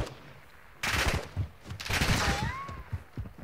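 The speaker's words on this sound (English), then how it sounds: "I'm getting shot from all kinds of different locations." AI enemies fire in MW2 DMZ, bursts of gunshots cracking in uneven clusters from several directions, some close and sharp, others further off, with a whizzing tone sliding through the middle; no talking.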